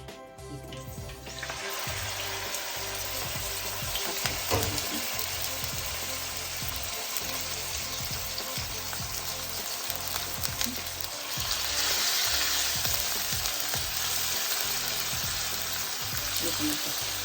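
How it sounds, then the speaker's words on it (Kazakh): Meat fries in 100 grams of oil in a hot frying pan, a steady close sizzle that runs the whole time and swells louder partway through, with occasional stirring noises. "Етімізді қуырамыз."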